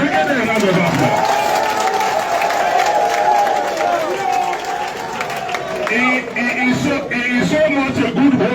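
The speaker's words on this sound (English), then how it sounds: "Ladies and gentlemen, please can we give a Tayo Jegede a round of applause?" An audience gives a sustained round of applause and cheering for Tayo Jegede at a political talk event, with a dense crowd roar and possible voices mixed in throughout.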